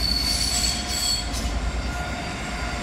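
A West Coast Railway class 37 diesel locomotive passes close and loud at Liverpool Lime Street, its continuous rumble joined by wheel squeal and a faint rhythmic clatter.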